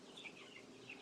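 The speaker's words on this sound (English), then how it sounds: "I have meat birds right over there. Okay, that's what we're hearing." Chickens raised for meat cluck and chirp faintly on a farm, with a few soft calls rising over a quiet background hiss.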